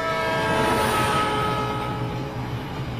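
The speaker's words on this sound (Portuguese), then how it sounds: "ouvimos o apito de um trem em movimento." A train horn sounds a sustained chord over rumbling rail noise, its pitch and loudness easing slightly as it passes.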